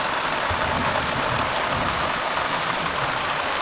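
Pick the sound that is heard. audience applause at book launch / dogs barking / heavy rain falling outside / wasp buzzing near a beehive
heavy rain falling outside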